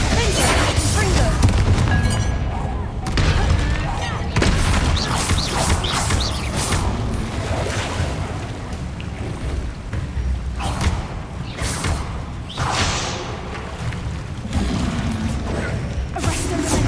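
Confringo and other combat spell blasts from Hogwarts Legacy, a dense run of booms, crashes and thuds going on and off across a busy fight, under intermittent game voices.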